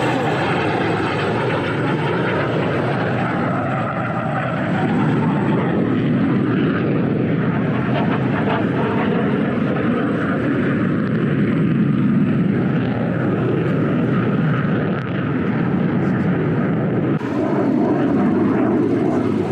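Loud, continuous roar of aircraft engines passing overhead at the AirVenture 2024 air show, a dense droning wash that swells and dips slightly across twenty seconds with no break.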